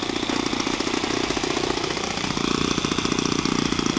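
A four-stroke engine on a Coroplast model plane runs steadily and loud throughout, with a dense, buzzing drone whose pitch shifts slightly midway and stays close.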